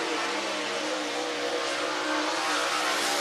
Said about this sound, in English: Bo Slay on the clock in the 2 car as Carpenter goes through turn 1 and 2